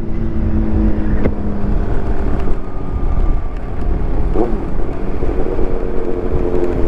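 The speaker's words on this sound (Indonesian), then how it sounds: "Dengerin suara motor, kenalin suara karakter motor lu" A motorcycle engine drones steadily while riding, a low rumbling hum with slight shifts in pitch, fairly loud and continuous.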